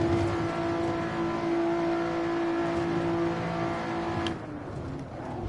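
A Lotus race car in Assetto Corsa holds a high, steady engine whine at speed, with a strong sustained tone and whirring mechanical noise, then eases off and the pitch drops near the end; loud and close.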